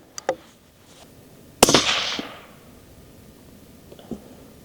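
A single 6.5 Grendel rifle shot from a Howa Mini firing a Speer Gold Dot load rings out as one sharp, loud crack that decays over about a second. A few small clicks come just before and after it.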